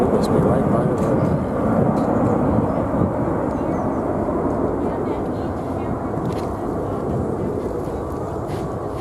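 An airplane near a runway in Luxembourg produces a loud, continuous broadband roar that stays steady and then eases slightly toward the end.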